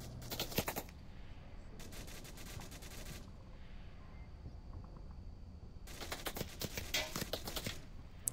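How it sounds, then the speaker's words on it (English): Rapid bursts of rifle fire crackle in Onward VR, three dense volleys of pre-fire bullets with quiet gaps between, sharp and fairly close. "this pre-fire is getting scarily close to his head. Imagine he's getting kind of uncomfortable with all these bullets."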